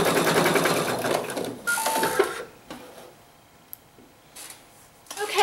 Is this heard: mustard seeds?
no